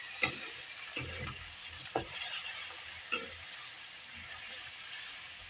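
Chopped tomatoes frying in a pan, giving a continuous bright sizzle broken by roughly once-a-second scraping strokes of a spatula, close and moderately loud, with no talking.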